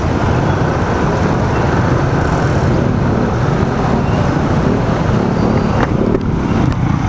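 Loud, continuous road traffic noise with car and motorcycle engines rumbling nearby, a dense unbroken roar with no clear gaps.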